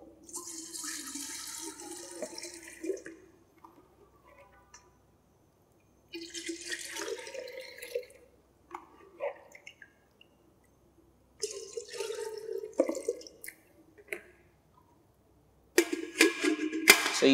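Water runs and splashes into a container in several bursts, stopping and starting, with quiet pauses between pours.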